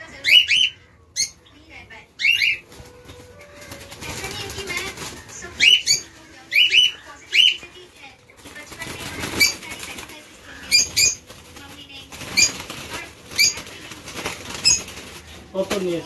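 Lutino and blue mask pet birds in an outdoor aviary flap their wings in repeated short bursts and chirp close by, while people talk quietly in the background.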